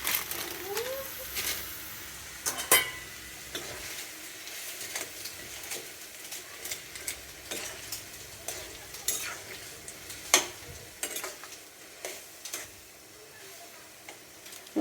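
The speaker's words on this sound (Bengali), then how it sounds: "তো দেখো নুডলস দিয়ে দিচ্ছি" Noodles going into a pan of boiling potato curry water: a faint simmering background broken by irregular clinks and taps of utensils against the pan, scattered over several seconds.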